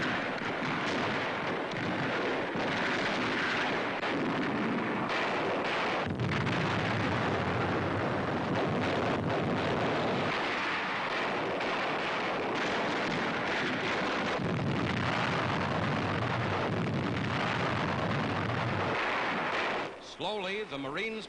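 Continuous rumbling roar of naval and land artillery bombardment during the battle of Iwo Jima, dense and sustained with heavy low booms, likely overlaid by wartime newsreel narration.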